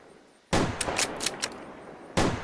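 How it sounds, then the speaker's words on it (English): Red Army soldiers in training empty full rifle magazines. After a quiet start, a sudden loud volley breaks out, followed by a ragged series of close, sharp shots and then a final crack. ""Ready! Aim! Empty magazine!" you fire every single bullet you have."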